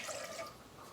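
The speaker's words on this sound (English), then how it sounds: "I'm gonna put in my water" Water is poured into a mixing bowl for brownie mix, a brief, close, splashy trickle that thins out toward the end, with no voices.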